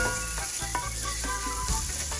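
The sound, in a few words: stirring chicken enchilada rice mixture with cumin in pan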